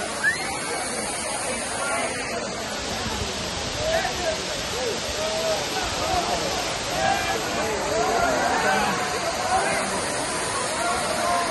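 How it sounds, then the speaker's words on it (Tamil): The main falls at Kutralam pour down steadily in a loud, constant rush of water, with a crowd of bathers chattering and calling throughout. "இது குற்றாலத்துடைய மெயின் ஃபால்ஸ்"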